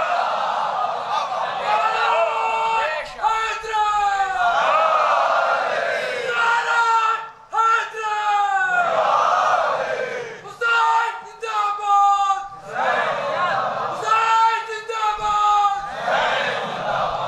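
A large crowd at a Shia majlis at Imambada Afzal Mahal in Lucknow chants religious slogans in loud, repeated waves of massed voices, with brief pauses between surges.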